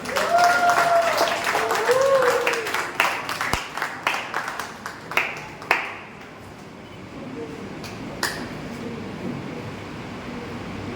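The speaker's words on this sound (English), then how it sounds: "Let's give a round of applause." Applause at an award ceremony and prize distribution for a best-outfit winner begins as dense clapping with cheers. It thins to a few sharp, isolated claps and fades to quiet room tone, and brief voices are heard early on.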